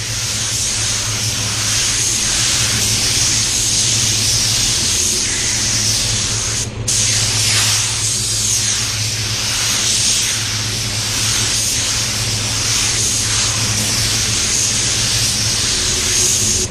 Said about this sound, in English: I'm gonna spray that way, okay?